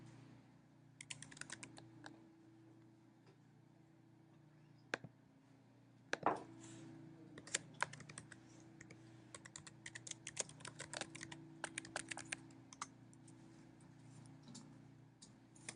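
Typing on a computer keyboard to enter an email address and password at a website login, quiet bursts of crisp key clicks in irregular runs against a low steady hum, one louder clack near the middle.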